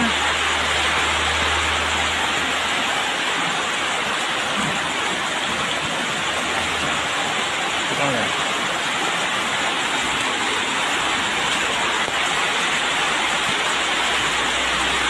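Heavy rain pours down in a steady, dense broadband hiss that holds loud and even for the whole stretch, with a low rumble underneath and no voices.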